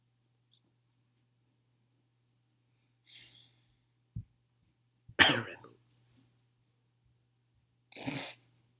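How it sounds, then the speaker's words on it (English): A loud, close cough bursts out, followed a few seconds later by a second harsh cough, with faint breathing and a soft thud earlier in otherwise quiet surroundings. "Cough, I had a cough."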